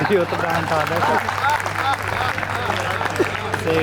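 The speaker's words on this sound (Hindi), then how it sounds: "ताली बजा दीजिएगा" An audience at a Hindi kavi sammelan poetry recital in Hastinapur claps in a dense, steady wash, with voices talking over it and a low hum running underneath.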